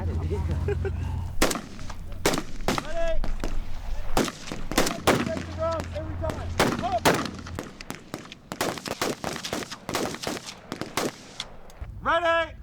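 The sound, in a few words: rifle gunshots at a shooting range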